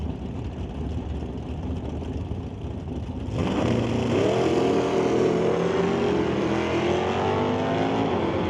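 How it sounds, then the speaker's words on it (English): Ford Mustang and Dodge Challenger launching at a drag strip, a loud engine roar jumping in abruptly after a steady background rumble, then climbing in pitch as the cars accelerate hard and hold the note. "Next up will be Mustang versus Dodge Challenger"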